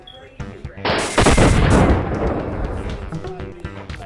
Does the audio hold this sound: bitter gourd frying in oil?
no